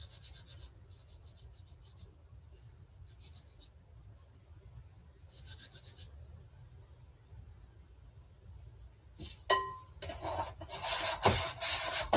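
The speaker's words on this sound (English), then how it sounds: "So just scraping down the sides of the bowl." A scraper rubs and drags against the sides of a bowl of kneaded dough in soft repeated strokes, ending in a few louder knocks and scrapes.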